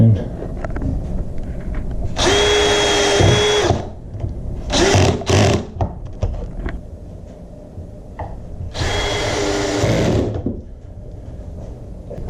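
A power drill drives screws into a wooden dining chair frame during a chair build, with three whirring bursts, one long, then two short quick pulses, then another long run, separated by quieter pauses.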